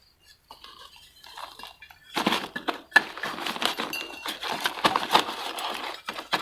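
Crushed eggshells tipped in at the base of a black plastic plant bag make light, dry clinks and crackles, faint at first, then a denser patter of small brittle taps.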